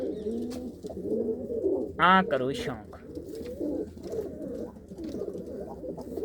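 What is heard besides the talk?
racing pigeons cooing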